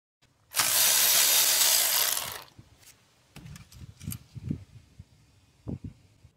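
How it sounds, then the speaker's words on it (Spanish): Ratchet wrench loosening the upper thermostat housing bolt on a 3.5 L V6 engine of a 2007–2016 Toyota Sienna during a water pump job: one loud two-second burst of ratcheting, then scattered quieter clicks and metal knocks, with no talking. "me muevo para la casa del termostato otra vez y saco el tornillo de arriba"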